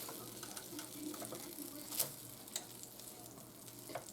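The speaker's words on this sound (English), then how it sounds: "Let's flip this baby." A thin burger patty fries in a pan with a continuous soft sizzle, broken by a few sharp clicks and scrapes as a spatula flips it, quiet and without talking.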